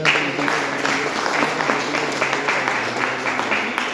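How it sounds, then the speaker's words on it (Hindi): An audience applauds, a dense, steady wash of clapping that holds at an even level for the whole stretch with no voice breaking through. "मैं चाहता हूँ आपके लिए जोरदार तालियां"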